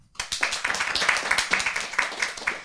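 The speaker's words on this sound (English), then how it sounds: "Clap your hands who has a common dinner with your family" Audience clapping hands at a stand-up comedy show, a quick burst of close, dense applause that starts abruptly and holds steady for a couple of seconds.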